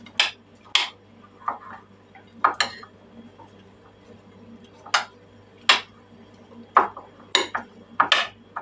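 Beet salad being stirred in a bowl, with sharp clinks and scrapes of a utensil against the dish coming in irregular bursts, spaced apart with quiet gaps, close and fairly loud.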